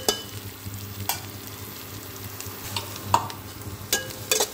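Onions frying in a pan for a mutton ishtu, a steady close sizzle broken by several sharp scrapes and clatters as a utensil stirs them, with no talking.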